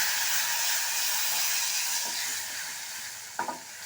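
Dried red chilies crackle in hot oil while tempering a coriander chutney, a bright, steady hiss that fades slightly before a short clatter near the end.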